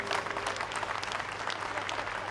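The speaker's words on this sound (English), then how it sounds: "Big round of applause." Applause from the audience at a college campus launch ceremony, continuous clapping heard at a moderate distance and held at a steady, fairly soft level with no talk.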